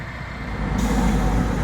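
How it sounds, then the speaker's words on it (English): A tow truck arrives on a roadside, its engine rumbling close and steady as a hiss of air brakes swells partway through. "Now the real tow truck has arrived."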